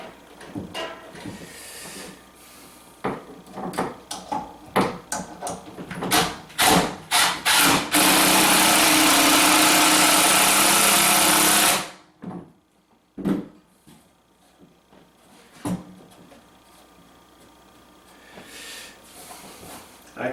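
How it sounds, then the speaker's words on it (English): A power screwdriver drives a screw into the brake pedal of an F1-style sim racing cockpit, a loud steady whir lasting several seconds amid scattered knocks and clatter from handling parts. "It will be easier to screw the second one"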